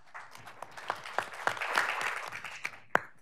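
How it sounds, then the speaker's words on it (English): An audience at a panel talk on cannabis compliance applauding, a thin patter of scattered claps that swells slightly midway, then trails off with a few last isolated claps. "Give him a round of applause."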